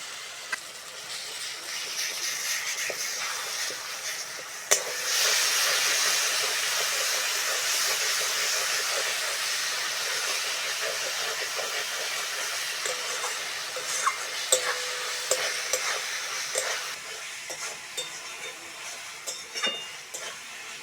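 Ginger-garlic paste frying with onion and tomato for a spicy fish curry, giving a continuous loud hiss of sizzling oil that swells sharply a few seconds in and then holds steady, with faint scattered clicks and no voices.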